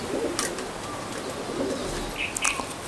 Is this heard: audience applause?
no